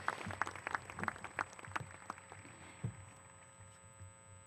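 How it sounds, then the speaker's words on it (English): A graduation ceremony audience claps for a school district's class of 2025, scattered distinct claps at first, then thinning and fading out over a few seconds, fairly distant in a large space. "Let's give him another round of applause."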